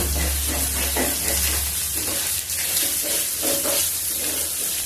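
Chicken fries in a pan with a steady close sizzle and occasional stirring scrapes, ending with a squeeze of lemon.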